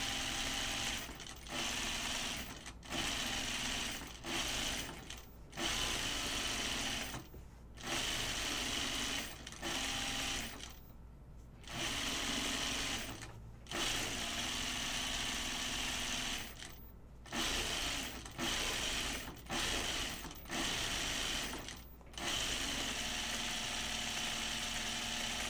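A home sewing machine stitches a fabric bucket hat in steady bursts, with short pauses between runs as the seam is guided along; the motor's whir is close and fairly loud, and no one speaks.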